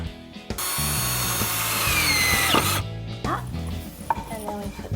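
Power drill driving screws into the wooden frame of a child-size workbench, a loud steady whine for about two seconds, then shorter bursts with knocks and handling noise close by.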